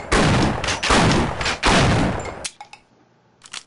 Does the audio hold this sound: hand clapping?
no